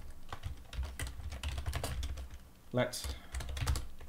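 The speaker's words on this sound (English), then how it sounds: "So we'll go type macro name." Steady clicking of a computer keyboard as someone types code, a run of quick, close keystrokes with a brief spoken word partway through.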